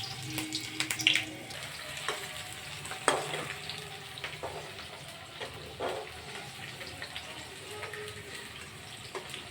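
Onions frying in a pan for egg chow mein, a steady close sizzle with scattered clinks and stirring scrapes, plus brief splashes of running tap water.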